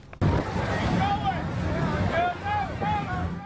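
Party boat engines rev out on the water off South Florida shores, their pitch whining up and down over wind buffeting the microphone, with water noise and voices mixed in.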